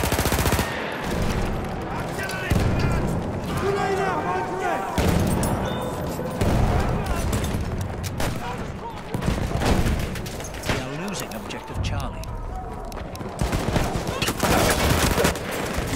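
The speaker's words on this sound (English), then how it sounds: "Push away while shooting." Rapid automatic rifle bursts and scattered gunshots from a Battlefield 1 match fill the stretch, loud and near, with short gaps between volleys and a voice talking over the fire.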